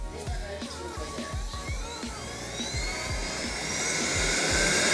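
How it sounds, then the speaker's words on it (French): A robot vacuum cleaner starting up on command from an Amazon Echo Dot 4 with Alexa, a whirring motor with rhythmic pulses that rises steadily in pitch and loudness as it spins up. "lance l'aspirateur."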